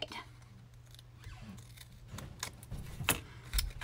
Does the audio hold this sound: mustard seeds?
no